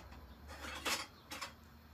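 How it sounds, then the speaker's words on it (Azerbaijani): A metal spoon fetched for serving tea at home, clinking twice against dishes or a drawer, a short close rattle followed by a second lighter clink, quiet and without talk. "Dayan, qaşıq da gətirim."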